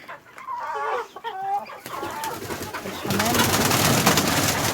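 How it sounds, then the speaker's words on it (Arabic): Pigeons cooing in a poultry yard, soft warbling calls near the start, then a denser noisy stretch as other fowl cluck in the background. "الحمام"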